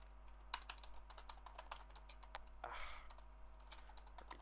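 Typing on a computer keyboard while coding, a quick irregular run of faint key clicks close to the mic over a steady low hum.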